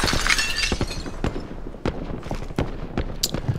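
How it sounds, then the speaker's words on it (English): Glass shattering in Call of Duty Warzone during a night match, a bright crash followed by scattered sharp cracks and impacts, fairly loud with game ambience underneath. "Breaking glass."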